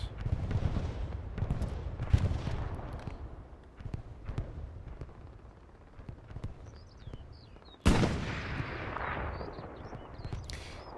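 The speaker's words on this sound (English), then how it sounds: "Katusha falling over here at the hard cap." Katyusha rocket artillery barrage landing in Hell Let Loose on the Kharkov map, a string of distant thuds and crumps followed by one loud, close impact with a lingering rumble.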